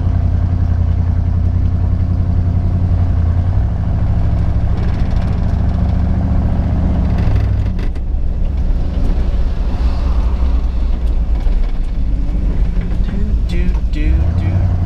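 A 1995 Ford F150 pickup with worn brakes, worn suspension and missing rear shocks drives along. Its engine hums and rumbles, shifting in pitch partway through, while voices talk over it.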